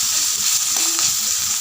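Ginger, garlic and onion fry in hot oil with a steady loud sizzle and hiss, broken now and then by faint stirring sounds.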